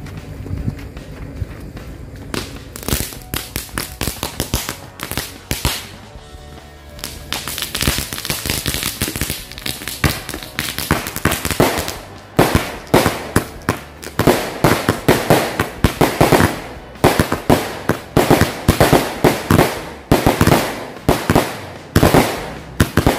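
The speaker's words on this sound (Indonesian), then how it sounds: "Selanjutnya kita sumbat mercon Roman Candle Gladiator." Roman Candle Gladiator firecrackers set off outdoors at night, producing a dense, loud run of sharp cracking bursts and pops that speed up into rapid, overlapping volleys, with crackle between the blasts.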